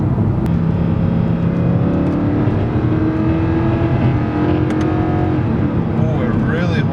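A 2011 Mercedes C63 AMG engine pulls hard through corners, a steady, loud drone that rises and falls in pitch, with voices talking over it throughout.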